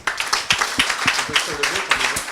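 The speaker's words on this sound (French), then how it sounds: "donc on peut les applaudir" Scattered hand claps from a small audience applauding prize-winning CM1 schoolchildren for their contest drawing, loose and uneven, with a voice talking over them.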